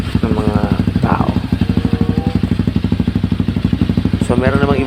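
Honda CRF250L motorcycle with a full-system open muffler idles with a loud, rapid, steady thump, broken by three short throttle blips early on and near the end.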